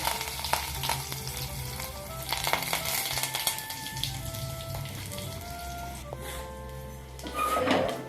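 Curry leaves with crushed onion and seeds hitting two tablespoons of hot oil in a small pot for tempering, a loud close sizzle with stirring clicks and scrapes, no talking.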